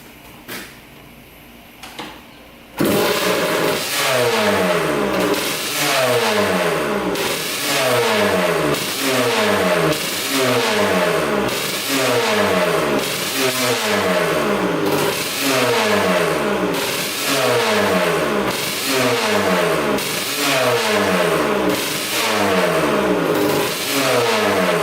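A 1989 Kawasaki KX125 two-stroke dirt bike engine, carburetor float height just adjusted, starts up and is revved hard over and over in a steady rhythmic cycle, loud and close, each rev rising sharply then dropping back to idle.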